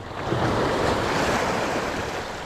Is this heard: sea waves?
yes